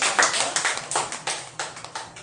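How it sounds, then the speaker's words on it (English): Clapping from a school audience after a Grade 2 pupils' debate, a loose patter of a few hands close by, with uneven individual claps throughout and no talk. "A big round of applause."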